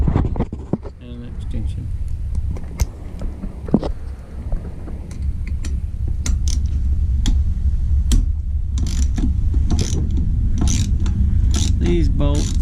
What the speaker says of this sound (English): 10mm and a socket and a ratchet and an extension.